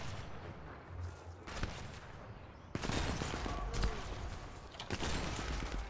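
Enemy gunfire in the World War II shooter Sniper Elite 4, with repeated sharp shots and bursts spread across the clip, louder after the midpoint, over a steady game background.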